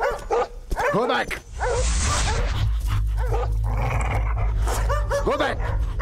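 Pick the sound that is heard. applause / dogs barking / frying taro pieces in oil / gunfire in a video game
dogs barking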